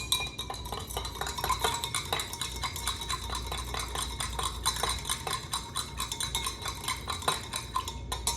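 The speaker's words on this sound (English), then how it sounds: "Give that a little stir." A spoon stirring lemon into a beverage sample, light, quick, repeated clinks against the cup in a steady rhythm, close and clear with no talking.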